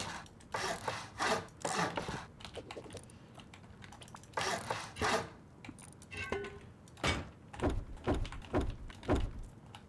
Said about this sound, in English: we can place down a single door here, which will lead towards the garage and garden section